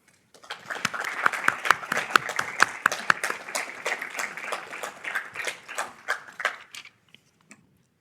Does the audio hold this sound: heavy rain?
no